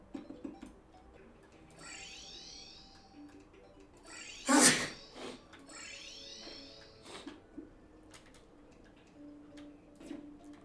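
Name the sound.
sneeze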